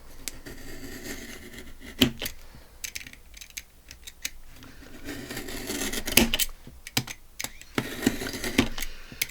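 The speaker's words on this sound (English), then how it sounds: "Or you can cut them page by page with your trimmer." A paper trimmer slices through vintage Halloween journal pages, scattered sharp clicks and thumps of the blade with soft rubbing slides of paper in between, close and fairly quiet.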